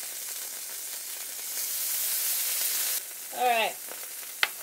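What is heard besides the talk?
butter sizzling as it melts in a hot pan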